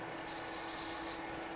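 Hand sanding on wood, a steady continuous rubbing hiss of sandpaper swept across the surface for about a second, close and moderately quiet, with no talking.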